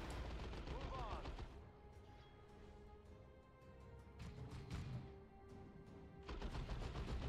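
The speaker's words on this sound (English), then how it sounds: "the suppressive fire is too much" Bursts of suppressive gunfire from a Warhammer video game crackle in rapid volleys, loud at the start and end with a quieter stretch between, while people talk excitedly over the shooting.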